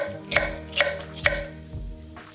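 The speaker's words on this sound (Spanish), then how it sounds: "También podemos cortar en bastones en este sentido." Kitchen knife chopping vegetables into sticks on a cutting board, four crisp evenly spaced cuts close up, with no talking.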